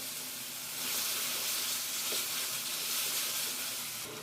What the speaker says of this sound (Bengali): এবারে মশলাটা একটু কষিয়ে নিচ্ছি।